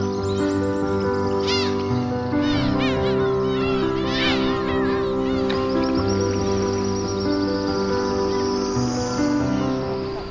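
Seabird pairs call back and forth at a breeding colony on Teuri Island in spring, loud drawn-out mewing cries overlapping continuously with a steady background hum.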